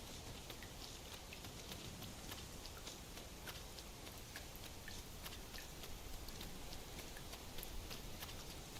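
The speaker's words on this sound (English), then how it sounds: "This rain grows more oppressive by the minute." Rain falls steadily in Dragon's Dogma 2, a faint, constant hiss with scattered drop ticks. Soft, irregular clip-clop or footstep sounds come through underneath.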